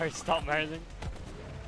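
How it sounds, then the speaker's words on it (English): Shotgun blasts from the video game Borderlands 3, two or three sharp booming shots with explosive tails in quick succession, a voice briefly speaking over the first. "I picked up this random shotgun and I like it a lot."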